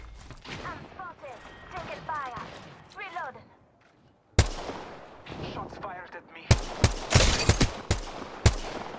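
Sharp gunshots from a video game sniper match ring out in loud bursts, clustered mostly toward the end, alongside excited voices talking between the shots.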